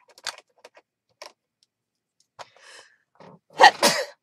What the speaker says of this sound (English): See, I told you I sneeze.